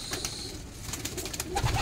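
Pigeons coo softly nearby in low, throaty murmurs, with a few brief chirps over a faint background hum.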